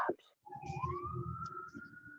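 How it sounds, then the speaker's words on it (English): A passing ambulance siren wails in a steady rising tone over outdoor background noise, moderately loud and sustained after a brief pause, with faint voices underneath. "there was the ambulance"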